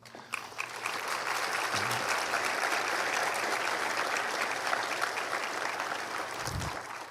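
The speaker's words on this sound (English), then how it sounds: "all of them deserve a round of applause." Steady, dense applause from an audience at a medical school white coat ceremony, sustained and fairly loud throughout.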